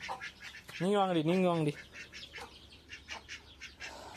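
A duck quacks loudly and close by in a short run of calls, with a person talking over and after it.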